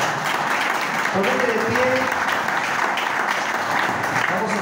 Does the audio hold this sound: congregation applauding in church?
yes